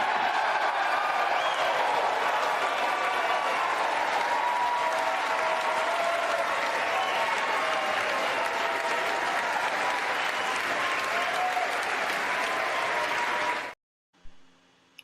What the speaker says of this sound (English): Dude, why is you cheering?